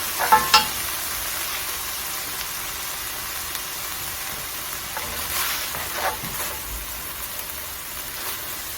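Ingredients for an egg roll in a bowl fry and are stirred in a pan, a soft steady sizzle with a couple of early utensil clicks and occasional light scrapes.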